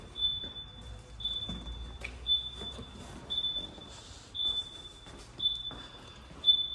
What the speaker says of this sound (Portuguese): Eu me afastei da moto, ela vai tocar o alarme.